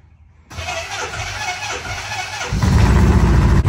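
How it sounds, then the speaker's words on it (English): A vehicle engine cold-starts and then keeps running, a sudden loud burst of cranking catching into a steady idle that grows louder and rougher after a few seconds, close by in an enclosed parking space. "A little bit of a cold start, but once she started, she's running."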